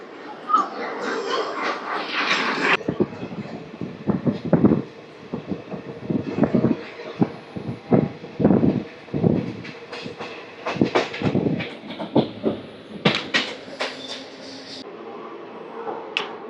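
The Puri Tirupati Express rolling along the rails, an uneven rhythm of clattering knocks and rumbles; people talk at intervals over the train noise.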